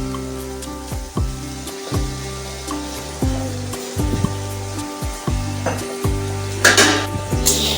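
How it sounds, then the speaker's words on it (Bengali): Egg curry stirred in a pan after a little water goes in, with repeated scraping strokes in a steady rhythm over a loud bubbling sizzle and a hiss near the end. "সামান্য পরিমাণে জল দিয়ে দিলাম, ভালো করে নাড়িয়ে দিলাম।"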